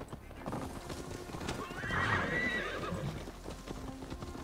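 A horse gallops with rapid hoof clops and gives a neigh in Assassin's Creed Valhalla, close and moderately loud, under faint background game sound.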